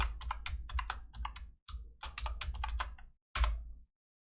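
Computer keyboard keys pressed in quick bursts of crisp clicking, close and clear, pausing briefly between runs of typing.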